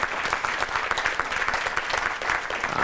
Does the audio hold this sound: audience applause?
yes